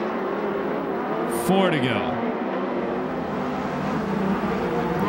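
USAC Western States midget race cars at Perris, California, with engines roaring past in a loud pass and a pitch-dropping sweep, under continuous race-commentary talk.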